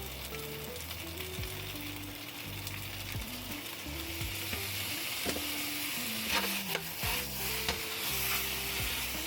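Beef rice noodle rolls stir-fried in a hot wok with soy sauce sizzle loudly and continuously, with scraping stirs and faint music in the background.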